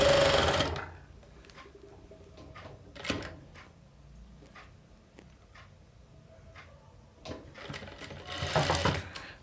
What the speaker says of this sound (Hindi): तो इस तरीके से हमने इसमें सिलाई लगा दी